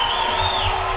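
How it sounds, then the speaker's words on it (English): Rams sideline crowd cheering at an NAIA college football game, Texas Wesleyan against SAGU, a steady roaring wash of voices that holds loud throughout with no clear speech above it. "The Rams sideline is on their feet, going nuts."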